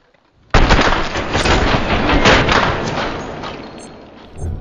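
Sustained gunfire in the video game Escape from Tarkov, bursting in loud and close after a short quiet start and roaring on for about four seconds before easing slightly.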